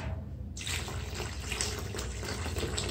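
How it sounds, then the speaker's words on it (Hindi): Water pours into a paste mixture, starting abruptly after a brief quiet moment and continuing as a steady splashing, trickling stream close to the microphone with no talking. "तो अब हम इसमें करते हैं जी इधर वाटर ऐड।"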